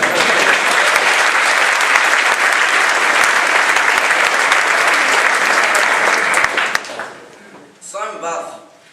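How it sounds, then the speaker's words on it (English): Loud, dense applause from a school graduation audience, holding steady for nearly seven seconds before cutting off abruptly, with a short burst of talking afterward. "I think Ian deserves a round of applause as well."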